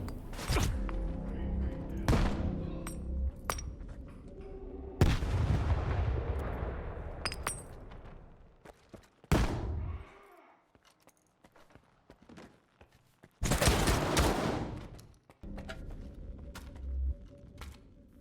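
Heavy gunfire and a grenade blast in S.T.A.L.K.E.R. 2, loud booming shots spaced a few seconds apart with reverberant tails fading into quiet gaps, then a long roaring burst of fire near the end.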